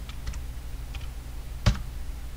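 A few soft keyboard keystrokes as a timecode is entered, followed by a sharper, louder Enter key press near the end; faint and close, with no talking.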